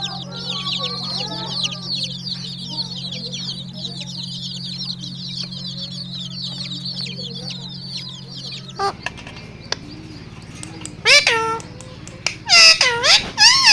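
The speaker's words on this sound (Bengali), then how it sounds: "বুডিং করা দেশি মুরগির বাচ্চা" Young native chickens, broody-hatched chicks, peep in a steady chorus of high chirps over a low hum, then several louder, sharper calls break out toward the end.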